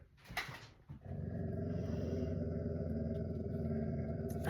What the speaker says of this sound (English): My dog is he's getting a little excited right now.